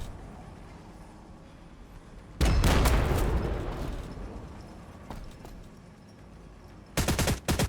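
Heavy gunfire in a Warhammer 40,000 battle between Astra Militarum and Orks, with quiet rumbling background broken by a loud burst of rapid automatic fire and blasts, a lull of scattered shots, then another sharp volley at the end.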